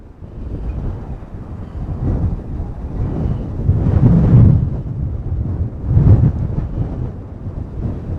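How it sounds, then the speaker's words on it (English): Strong wind blowing outdoors, buffeting the microphone with a loud, rumbling roar that surges in two stronger gusts and keeps up throughout, with no talking. "the wind is really kicking"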